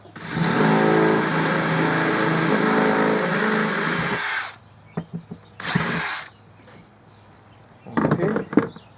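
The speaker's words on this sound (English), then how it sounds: "Gonna drill a bigger one." A power drill bores a hole into a plastic boat hull, whining loudly and steadily for about four seconds, then fading to faint handling knocks, a second short drill burst, and a few clatters near the end.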